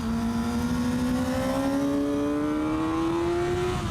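A Kawasaki ZX6R 600cc sport bike accelerates hard along a Spanish mountain road, its engine pitch climbing smoothly and continuously as it pulls away, loud and close without any talk.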